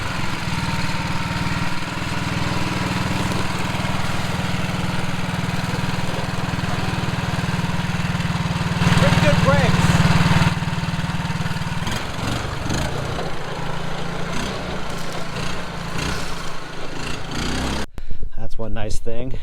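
A homemade Chinese quad ATV engine runs with a steady, close mid-pitched drone that swells briefly, then settles back to a rough idle before cutting off abruptly near the end.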